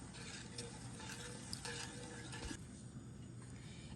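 Sugar syrup made from sugar and water being stirred on a low flame, a soft continuous scraping and faint sizzling with occasional light clinks of the utensil against the pan, quiet and without speech.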